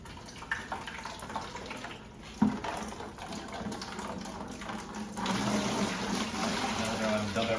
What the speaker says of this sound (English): now it's draining everything else out of the tubes